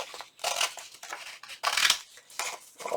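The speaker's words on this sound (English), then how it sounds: "I'm going to take my scissors and I'm going to go ahead and I'm going to trim it out" Scissors trim an index card in a series of close, crisp snipping cuts, several bursts of blade rasp separated by short pauses, with no talking.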